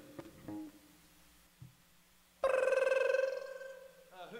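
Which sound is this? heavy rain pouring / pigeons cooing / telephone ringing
telephone ringing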